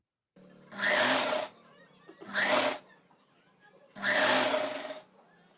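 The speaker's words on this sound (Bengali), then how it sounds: "নাইটির সোজা সাইডের উপর হাতার সোজা সাইডটা রেখে সেলাই দেওয়া শুরু করব" Sewing machine stitching the sleeve of a round-neck nightie, running in three bursts of steady whirring with short pauses between, close and alone.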